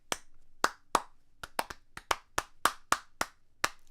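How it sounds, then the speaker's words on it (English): Sharp hand claps beat out a punchy verse melody rhythm, eleven claps in uneven syncopated groupings, close and clear against silence. "You can clap it"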